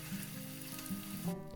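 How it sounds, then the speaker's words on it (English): Flank steak sizzles in hot olive oil in a pan, a close, steady crackling hiss over a faint low hum, cutting off sharply near the end. "If the oil has the right temperature, you should hear a nice sizzling sound"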